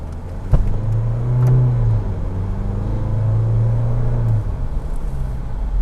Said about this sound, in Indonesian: Sekarang kita coba gas.